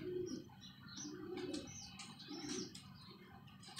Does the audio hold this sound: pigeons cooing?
yes